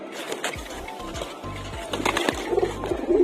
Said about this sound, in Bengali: দুপুরবেলা কবুতর ছাড়ছি, কনফিডেন্স নিয়ে তো অবশ্যই কবুতর ছাড়ছি।